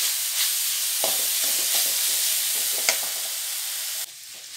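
Masala frying in a pan for a boti curry gives off a steady, close sizzle, broken by a few soft scrapes of stirring before the sound drops a little near the end.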